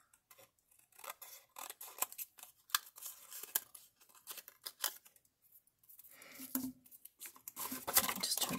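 Scissors snipping through leftover paper while making paper purse gift boxes, a run of quick irregular cuts and crinkles up close, with paper rustling and handling toward the end.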